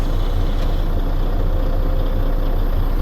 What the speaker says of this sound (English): Apply trailer emergency brake. Release tractor parking brake.